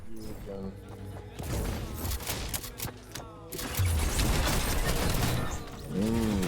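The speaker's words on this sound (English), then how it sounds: "We're just shooting at each other." Rapid bursts of gunfire from players shooting at each other in an online shooter, loud and continuous across the clip, with voices talking over the shots.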